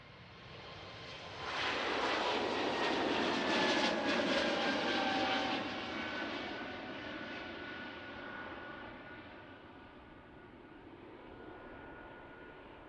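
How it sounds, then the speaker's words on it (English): An Air Baltic airliner takes off from the Polderbaan runway at Schiphol, a distant jet roar swelling to a broad peak, then slowly fading away as it climbs, with a faint whine over the rumble. "The first one off tonight is the Air Baltic 820. Taking off here from the Polderbaan."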